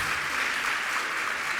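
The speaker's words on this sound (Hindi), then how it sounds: "सब बेटियां ताली बजाओ" Steady clapping from a group of girls at a religious discourse fills the whole moment, dense and even without breaks, at a moderate distance.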